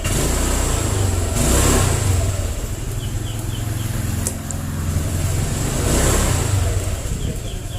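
Honda Vario 125 scooter engine with the throttle twisted, suffering from a sputtering hesitation on initial pull-away: a steady, close mid-pitched engine drone that swells slightly twice without clearly picking up speed.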